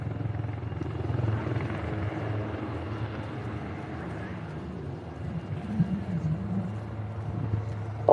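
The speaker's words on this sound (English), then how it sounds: "Of the many roles that the Lynx Wildcat carries out, it's used as an anti-surface warfare protection, force protection, and counter-piracy." A Lynx Wildcat military helicopter flying at a seaside air festival gives a steady, moderately distant rotor drone that fills the clip, with a commentator's voice talking faintly over it.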